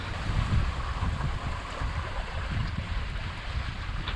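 A sailboat running before the wind at five to six knots, with steady wind buffeting and the low rush of water against the hull, all continuous and close with no voices.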